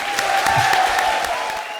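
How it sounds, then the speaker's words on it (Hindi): A studio audience on a comedy show bursts into applause, a dense even wash of clapping at fairly loud level lasting under two seconds, with a faint tonal hum running underneath. "एक बार जोरदार तालियां।"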